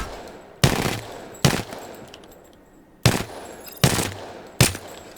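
Five sharp, loud gunshots in the video game Apex Legends, spaced irregularly, each ringing out with a brief echo that fades before the next.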